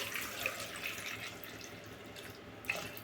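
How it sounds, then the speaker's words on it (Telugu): Water pours from a vessel into a pressure cooker holding cut potatoes, with a steady trickling and splashing stream and a few brighter drips. It runs close, moderate and continuous, with no talk. "ఇప్పుడు మనం వాటర్ పోసుకుందామండి"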